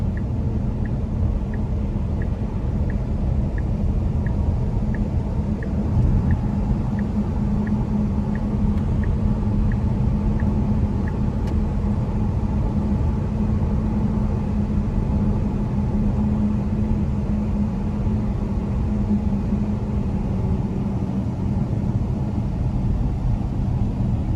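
Tesla Model S P100D electric car on the road, a steady low cabin rumble of tyres and road noise throughout, with faint rhythmic ticking early on and no engine note.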